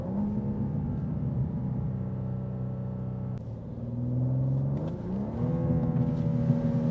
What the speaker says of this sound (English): Wow, the pops and bangs.